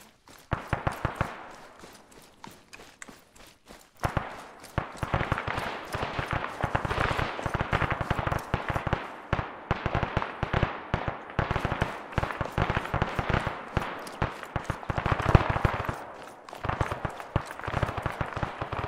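Gunfire in an Arma military game mission: many sharp shots crackle in uneven bursts and scattered single reports, some close and some farther off, going on steadily for the whole stretch.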